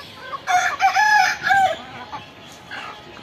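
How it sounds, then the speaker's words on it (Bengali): A native desi rooster on a small poultry farm crows once, close and loud, its long strained call dropping away into faint background hens. "অলরেডি আপনারা শুনেছেন আমার মোরগের ডাক।"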